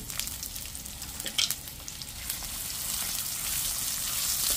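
Ingredients for tinola, a Filipino soup, hit a hot pan and fry with a steady, close sizzle and crackle that swells slightly toward the end, with no talking.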